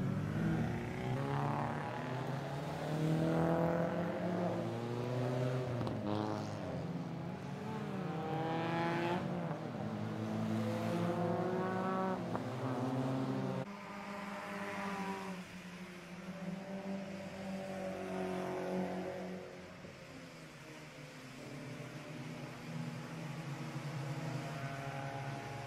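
Race cars in a Baltic Touring Car Championship V1600 and ABC class race in Riga, including Toyota Yaris entries, drone along on the warm-up lap, a loud continuous engine roar whose pitch sweeps up and down as cars pass, with no talk.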